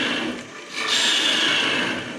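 A lathe gouge hollows the middle of a turning wooden bowl, a continuous close-up scraping rasp that dips briefly and then swells into a steady, brighter cut.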